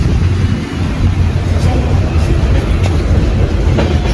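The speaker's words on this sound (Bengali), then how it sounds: "এই ট্রেনটাতে আমরা যাবো, চলে এসছে।" A loud, steady rumble of the Jammu Tawi Express passenger train, with continuous low-frequency roar and faint rhythmic clatter throughout, close by.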